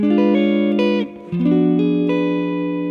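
A guitar plays a diminished chord lick with a hammer-on, bright clean notes ringing out in a short phrase with a brief pause midway before the chord sustains.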